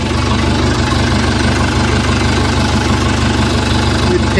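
A 1982 Case 450B crawler's engine idles close by in a steady, unbroken diesel rumble with a low, even throb that holds for the whole stretch.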